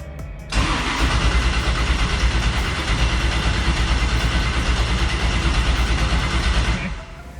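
An LS turbo engine in a 1956 Chevrolet Bel Air cranks over with a loud, steady rhythmic churn from the starter for about six seconds before cutting out, close by with no talk.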